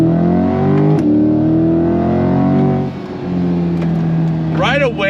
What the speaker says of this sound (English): Left foot on the brake, right foot on throttle. On throttle, here we